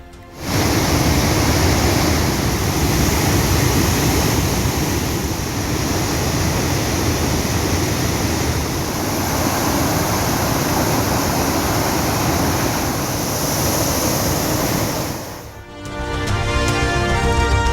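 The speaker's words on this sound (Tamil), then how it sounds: "மணிமுத்தாறு அருவியில் 2வது நாளாக கடும் வெள்ளம்" Floodwater rushes down Manimuthar waterfall after continuous rain in the Western Ghats, a loud, unbroken roar of crashing water that holds steady for many seconds before fading briefly near the end as music begins.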